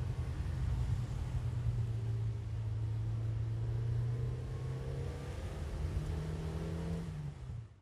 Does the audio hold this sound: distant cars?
yes